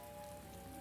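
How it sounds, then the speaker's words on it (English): Steady acid rain falls on a volcanic map in a video game, a dense continuous hiss of drops hitting surfaces, with faint tonal hum running underneath. "Apparently it does rain on this very volcanic map."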